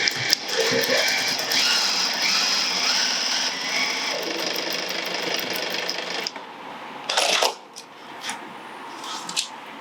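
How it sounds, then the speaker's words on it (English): A sewing machine runs a second row of stitching along the base seam of a fabric clutch bag, a steady close whirring for about six seconds, then pausing with a few brief handling bursts. "I'm going to do a second row of stitching"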